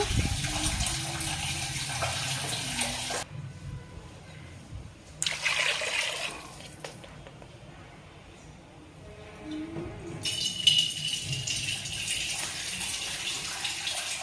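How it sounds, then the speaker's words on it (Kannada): Water pours into a cooking pot for dal sambar, a broad rushing splash that comes in three separate bursts with quieter pauses between them, close by, with no talking. "ನೀರು ಹಾಕಬೇಕೀಗ. ನೀರು ಹಾಕ್ಕೊಂಡು"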